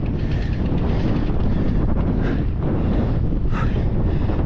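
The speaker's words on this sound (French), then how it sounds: "il y a un peu de vent là" Loud, constant wind buffets the microphone while riding an electric-assist mountain bike near Mendaur from Aurtitz, a dense rumbling roar that continues without a break.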